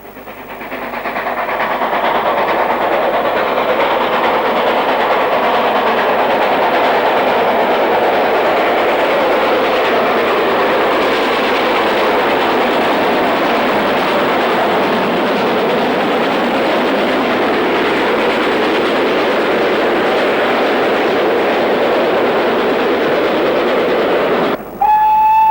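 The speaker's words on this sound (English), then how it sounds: "as a train climbs towards the summit, south of Goathland" A North Yorkshire Moors Railway train climbs toward the summit south of Goathland, its steady rumble and wheel clatter holding loud and continuous for the whole stretch before cutting off abruptly near the end.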